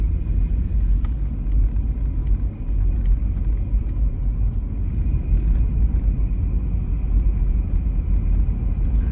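A car drives along a sunlit country road, with a steady low engine and tyre rumble holding at a constant level throughout and a few faint ticks on top.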